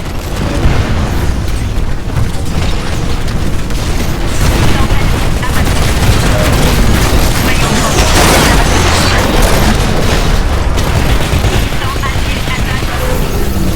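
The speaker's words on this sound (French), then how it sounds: "Notre collecteur essuie des tirs de mortier." Mortar fire and gunfire in the video game Titanfall, a dense, loud barrage of booms and rattling shots throughout, with voices over the battle.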